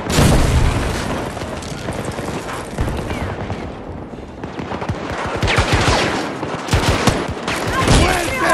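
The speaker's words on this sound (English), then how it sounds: "Incoming grenade!" A grenade goes off in the Battlefield 2042 video game, its loud boom buried in a continuous roar of rapid gunfire and battle noise that runs the whole time, with a voice briefly under the din.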